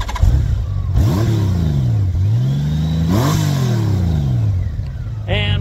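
A Honda Goldwing GL1800 six-cylinder motorcycle idles with a deep exhaust rumble through a modified adjustable exhaust, then revs up and falls back twice, a smooth rising and falling drone, loud and close.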